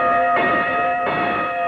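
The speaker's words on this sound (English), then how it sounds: "Listen to that bell clang" A bell clangs steadily with a bright, ringing tone, struck twice with a long sustained ring between strikes.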